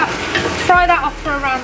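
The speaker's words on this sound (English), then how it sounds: "just keep frying the onions with the peppers and the garlic just for another couple of minutes" Onions, peppers and garlic frying in a pan, a close sizzle with a brief stirring scrape and a soft tonal hum, heard alone for under two seconds.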